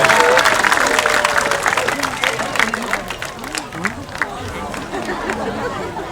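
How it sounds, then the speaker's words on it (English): At a zoo sea lion show, an outdoor audience gives applause, loud at first and fading, with crowd chatter and a presenter's voice running over the clapping. "Let's give her a big round of applause"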